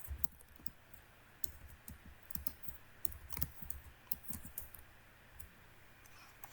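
Typing on a computer keyboard and clicking a mouse while modelling walls and windows: quiet, close, irregular bursts of key clicks, busier in the middle and thinning toward the end, with no talk.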